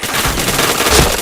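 Rapid automatic gunfire in a first-person shooter game, a dense, continuous burst of shots lasting about a second, loud and close.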